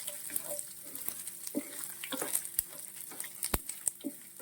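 Prawn roast masala frying in a pan, hotel style, browning to golden: a crackling sizzle with irregular pops and stirring scrapes, close and moderately loud with no talking.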